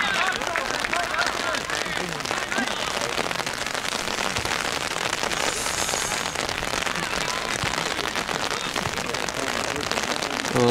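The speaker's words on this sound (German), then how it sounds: "Und es regnet immer mehr." Rain falling during a youth football match in the second half, a dense steady patter across the whole stretch, with a voice speaking over it.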